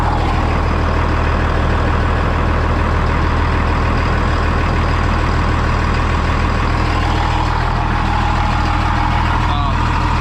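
A Massey Ferguson 7495 tractor engine runs steadily and loud close by, a deep continuous idle drone with a constant low hum, heard while the brakes are being bled.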